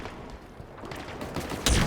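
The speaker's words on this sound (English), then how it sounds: "So this is one of the other new guns." Gunfire from a new weapon in Halo Infinite on PC, a short quick rattle of shots building to a louder burst at the end.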